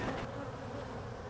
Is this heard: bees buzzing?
yes